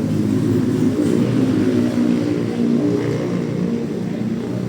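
A Honda Click 125i scooter with a dragging issue revs during a test drive, a steady low engine drone that swells slightly, close and continuous.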